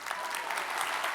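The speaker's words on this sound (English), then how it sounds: "Give me a big round of applause for Ron because he shot this video." Steady clapping from a keynote audience giving a standing ovation, dense and continuous throughout, moderately loud with no voices breaking through.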